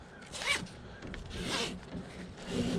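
A tie-down strap on a kayak loaded in a truck is pulled tight, giving close, raspy zipping pulls of webbing through a buckle, three or so strokes over a few seconds with no talking.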